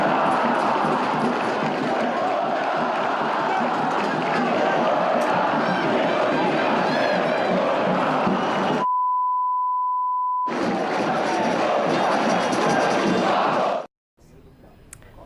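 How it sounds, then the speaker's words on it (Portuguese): Football supporters, largely an organized fan group, chant in unison against the club board at Arena Barueri, a loud continuous crowd roar that is cut by a steady censor beep before the chanting resumes and stops abruptly. "a gente pôde ouvir a torcida, principalmente a torcida organizada, criticando a diretoria"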